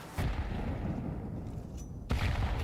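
Grenade blasts in a Counter-Strike match on the Inferno map, a stack of booms thudding at the start and again near the end, dense low rumble between, with no voices.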